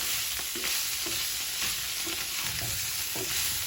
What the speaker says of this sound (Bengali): হালকা করে নেড়ে চেড়ে বন্ধ করে দিব